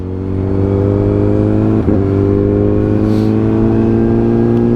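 A Honda CBR1000RR SP motorcycle with an SC Project S1 exhaust drones at a steady, loud idle with a deep, throaty tone and one brief blip midway, close by and without voices.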